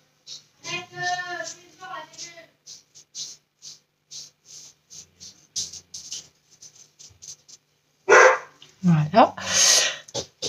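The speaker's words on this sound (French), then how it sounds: "J'ai mes chiens qui aboient." Several dogs bark in short bursts, some near and some farther off, with a louder cluster of barks toward the end, spread across scattered quieter moments.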